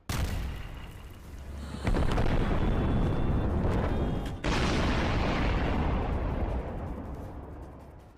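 Heavy Iraqi army tank shelling pounds an ISIS-held area, a loud, dense roar of blasts and rumbling fire with a sharper burst near the start and another jolt midway, sustained without letup and no voices.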